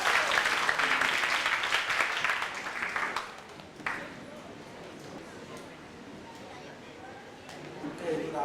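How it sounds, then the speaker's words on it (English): An audience at a debate event claps in a dense burst of applause that fades after about three seconds, followed by quiet room noise and a voice speaking faintly. "a round of applause to the last 2 schools of Pool B"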